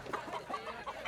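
A chicken clucks in repeated short bursts, close and moderately loud, with a hen's rhythmic calls continuing through the moment, on a rural farm setting.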